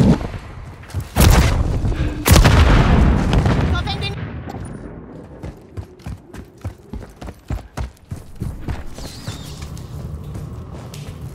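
Call of Duty MWIII online gameplay: two heavy grenade blasts go off close together, each a loud, booming burst that rumbles away. Scattered sharp gunfire cracks and faint voices follow.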